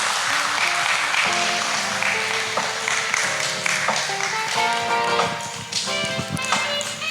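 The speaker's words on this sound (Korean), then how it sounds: "뜨거운 환영의 박수 보내주시길 바랍니다" Welcoming applause for an artist arriving at an international student art competition in Jeju rolls on continuously, mixed with tonal music and scattered taps, fairly loud and sustained throughout.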